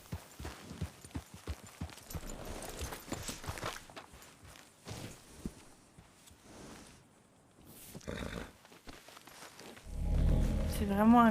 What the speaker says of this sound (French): il faut que je nourrisse mon cheval